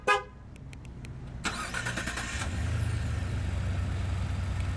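The panic alarm on a 2017 Lincoln Navigator with a 3.5 L twin-turbo V6 sets off a loud horn blast, followed by quick repeated pulses. The engine then starts by remote and settles into a low, steady idle.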